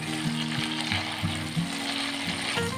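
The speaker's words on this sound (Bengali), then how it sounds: "লো টু মিডিয়াম টেম্পারেচারে এবার আমি চিংড়ি মাছগুলোকে খুব হালকা করে ভেজে নেব।" Prawns fry lightly in oil over low to medium heat for a Bengali prawn and banana flower dish, giving a steady close sizzle with a low tonal hum running underneath throughout.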